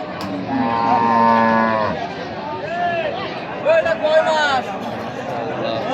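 Dairy cows at a rural border cattle market in Joypurhat give several drawn-out moos, one long low call followed by higher, wavering ones, nearby over a background of crowd murmur.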